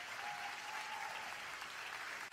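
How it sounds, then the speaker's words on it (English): Audience at a Blexit rally in Dallas gives a round of applause, a dense, even wash of many hands clapping at steady volume with no speech over it. "Y'all can get that a round of applause."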